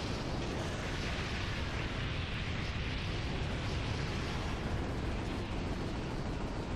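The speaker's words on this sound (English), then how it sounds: "I'm just gonna shoot as many rockets as I can" Continuous roaring blasts of rockets exploding against dragons in the 2002 PS2 game Reign of Fire, a dense, loud wall of rumbling detonations with no pause.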